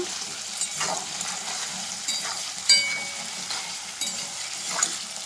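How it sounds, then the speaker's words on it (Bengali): Steady sizzle of potatoes frying in a pan with turmeric and salt, occasional soft stirring scrapes and light clinks, close and continuous, no talking. "এবার আলু ভেজে নেব"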